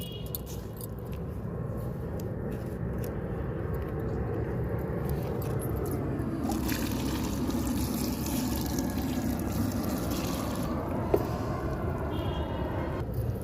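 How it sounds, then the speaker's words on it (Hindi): Water is poured onto garden soil around seedlings being transplanted, a steady gushing splash that runs continuously at moderate level with a few small clinks. "इसमें मैं पहले पानी लगाऊंगी"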